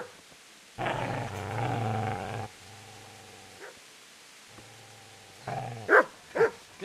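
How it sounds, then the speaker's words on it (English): A dog in Kingdom Come Deliverance growls in low sustained rumbles, pausing between them, then gives two sharp close barks near the end. "Get away, you mutt!"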